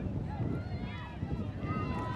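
Steady wind gusting across an outdoor ultimate frisbee field during a women's club championship final, with a low, continuous rumble and buffeting noise on the microphone and faint voices in the background.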